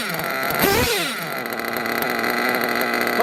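A nitro RC car engine revs briefly in a rising whine, then settles into a steady, buzzy high-pitched idle that drones on close by.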